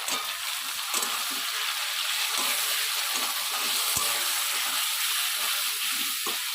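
Spice paste with salt, turmeric and a little sugar fries loudly in a pan, a dense steady sizzle broken by scraping stirs and occasional taps of the spoon.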